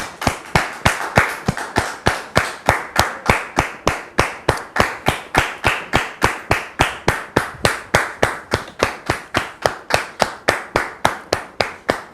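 A studio audience on a French-language TV talk show applauds to welcome a guest onto the set, producing a long run of loud, even, rhythmic claps that carry on steadily without any speech.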